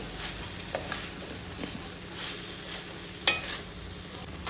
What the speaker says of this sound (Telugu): రెండు స్పూన్ తీసుకొని కలుపుకున్నాను